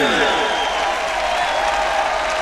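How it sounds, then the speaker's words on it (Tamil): Audience at a fight event applauding, a dense, steady wash of clapping that fills the space, with a voice speaking over it throughout. "உங்களுடைய கைத்தட்டலை எழுப்பி இன்னும் இவர்களை உற்சாகப்படுத்துங்கள்."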